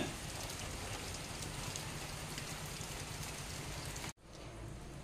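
Steady, dense rain falls outdoors as a continuous hiss at moderate level, broken by a brief cut near the end, with no voices.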